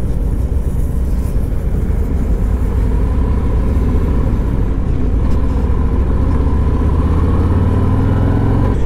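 A 2024 Harley-Davidson Road Glide motorcycle rides along a road, its engine a loud, continuous low rumble heard up close alongside wind and road noise.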